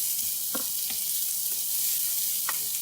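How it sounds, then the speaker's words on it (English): Onion and garlic fry in olive oil with a steady, even sizzle, while a utensil stirring the pan makes a few soft scrapes and taps. "We're going to give this a nice stir."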